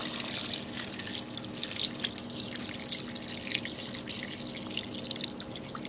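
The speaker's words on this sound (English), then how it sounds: "now we're going to add the water to the Instant Pot to top her off" Water pours into an Instant Pot in a continuous bright, splashy trickle, close and moderately loud, with small gurgling fluctuations throughout.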